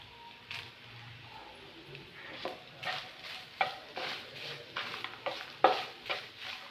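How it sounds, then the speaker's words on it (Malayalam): Grated coconut fries in a pan for a Kerala-style curry: an even background sizzle broken by sharp, close scrapes of a stirring spoon. "ഇനി വറുക്കാനായിട്ട് അതിലോട്ട് കുറച്ച് തേങ്ങ ഇടുവാണ്."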